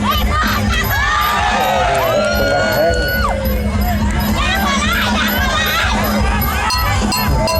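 A crowd at a women's Muay Thai fight shouts and cheers continuously, with children's high-pitched cries and whoops rising over the din and voices calling out nearby.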